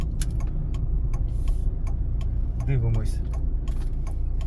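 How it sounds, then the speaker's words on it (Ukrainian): Right turn indicator ticking inside a car approaching a give-way junction in Cherkasy, a steady series of sharp clicks over low engine rumble, with a voice briefly speaking. "Завчасно вмикаємо правий покажчик повороту"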